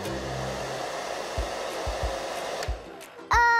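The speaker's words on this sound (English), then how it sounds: "Blow dry your hair." A hair dryer blows in a steady whooshing hum, with a few soft thumps, before briefly cutting out and a sharp tone starting at the end.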